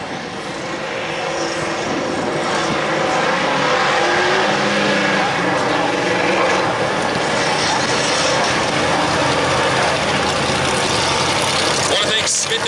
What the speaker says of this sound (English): Powell Jr. in the flag stand crosses up and tells the drivers to get side by side here at Lake Doucette Motor Speedway